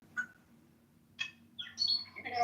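Several short bird chirps and tweets ring out near a beach in Lakeview, in isolated bursts early on and then in a busier cluster of calls toward the end, fairly clear over a quiet background.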